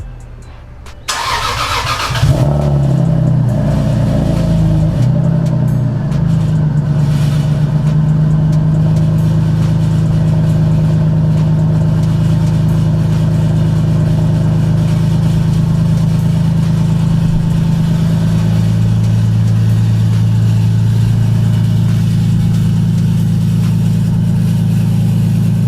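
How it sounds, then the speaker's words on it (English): A Lexus IS300 starting after sitting for two months: a brief starter crank catches into a loud engine surge, then settles into a steady, close rumbling idle that holds to the end, with no talking. "So as you guys can hear, the IS is on."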